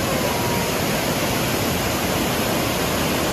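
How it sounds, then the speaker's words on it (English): Nauyaca waterfall in Costa Rica roars in a steady, dense rush of water, loud and unbroken throughout with no other sounds. "we're approaching this waterfall right now"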